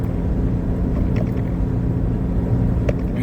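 A car cruising on a highway en route to a border crossing on a road trip toward Alaska, heard from inside as a steady low engine and road rumble with constant tire noise throughout, no talk.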